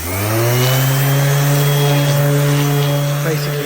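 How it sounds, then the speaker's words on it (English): A power sanding machine works a car headlight with 400 grit sandpaper, giving a loud, steady motor whine with a strong humming tone that runs unbroken and close throughout. "So let the machine do the sanding."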